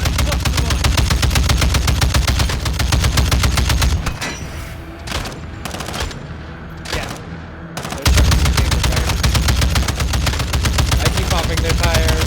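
Rapid automatic gunfire in Call of Duty Warzone, dense and loud for several seconds, a short lull with scattered shots, then another sustained burst.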